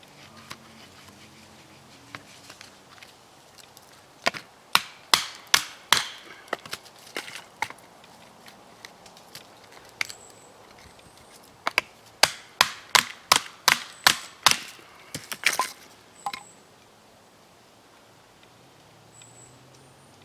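An LT Wright GNS saber-grind knife chops white oak through knots: a loose series of sharp, crisp wooden chops, sparse at first, then a quick rapid cluster, over a quiet background.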